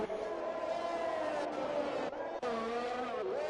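Race car engines whine at high pitch as cars pass through the Monaco circuit in a racing video game, a continuous loud engine tone with brief dips and pitch shifts as cars go by, under light talk.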